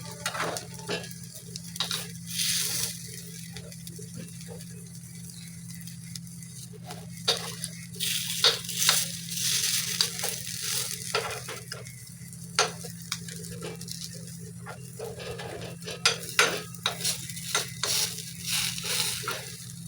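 Appe sizzling and roasting in oil in an appe pan, a steady crackling fry broken by frequent sharp scrapes and taps of a spoon against the pan, no talking.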